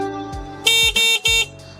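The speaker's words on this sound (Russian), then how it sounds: "Гудок, если вот так вот нажмем" Three loud, close car horn blasts in quick succession, each a steady bright tone of under a quarter-second, separated by brief gaps, with no talking around them.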